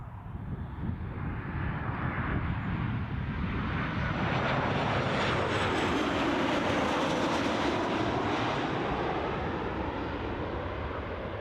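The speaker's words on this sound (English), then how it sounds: "Here we go, plane's in." Airplane arriving at Newcastle International airport roars steadily for several seconds, a loud broadband engine rush that swells and sweeps past close by, with a jet whine riding on top and no talk.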